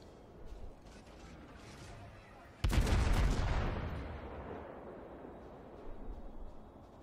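A single loud naval gun blast in World of Warships, played on the American cruiser Indianapolis, booms out sharply and rumbles away over a few seconds above a low steady background.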